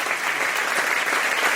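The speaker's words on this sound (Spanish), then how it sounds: "Fuertes aplausos al Rey de Reyes y al Señor de Señores" A church congregation at a Catholic service with Padre Bernardo Moncada bursts into loud, dense applause, a sustained wash of many hands clapping close and full.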